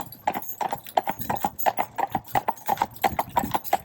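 Horse hooves clip-clopping during a horse training session, a brisk, regular run of sharp, close hoof strikes on a hard surface repeating steadily throughout.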